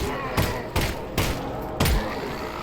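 Gunfire in Half-Life: Alyx: four loud, evenly spaced shots with booming low thuds, each followed by a short decay against a busy game background.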